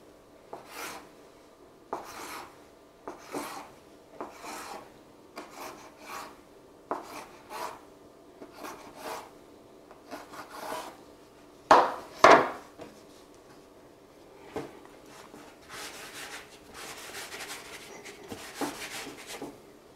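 Taralli dough being cut on a wooden board, a steady run of soft rasping knife strokes against wood about once a second, with a couple of louder knocks near the middle, close and quiet with no talking.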